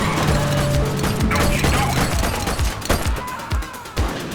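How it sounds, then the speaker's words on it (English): Gunfire in the police video game The Precinct, a burst of rapid shots and sharp cracks over a low electronic tone, loud and close, easing to sparse reports toward the end. "Shots fired on Portalo Hill."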